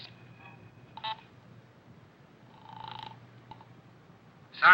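Telephone dialing in an old radio drama as a woman calls the police, a few separate dial or tone blips spaced apart against a quiet background, ending in a louder burst.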